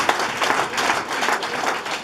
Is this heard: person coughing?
no